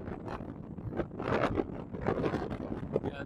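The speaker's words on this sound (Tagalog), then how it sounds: "Malakas ang hangin, kaya tayong patumbahin nito." Strong wind buffets the microphone at the peak of Mt. Mag-asawang Bato, a rough continuous rumble with gusting surges and no talk over it.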